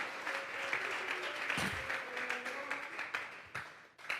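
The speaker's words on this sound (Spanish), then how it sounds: "Dele fuerte esas palmas al Dios de la gloria" Church congregation clapping during a Spanish-language Bible doctrine service, a dense, lively stretch of hand claps with scattered louder claps, fairly close.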